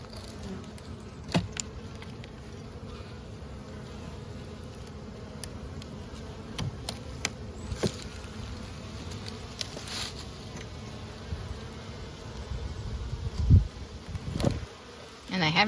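Honey bees buzz steadily from an opened winter hive, a dense close drone that runs throughout, with faint low talk and a few clicks and bumps beneath it.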